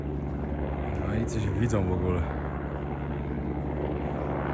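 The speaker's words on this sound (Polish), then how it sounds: "Patrzcie, jak ten helikopter leci w chmurach." A helicopter flies in the clouds over the Himalayas in Nepal, a steady, distant rotor and engine drone that continues throughout while a person speaks over it in the middle.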